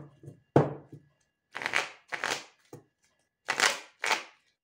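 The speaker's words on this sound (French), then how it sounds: "je remets un peu d'ordre dans les cartes" Tarot cards being shuffled by hand, several quick riffling bursts of papery flutter separated by short pauses, close and fairly loud, with no talk over them.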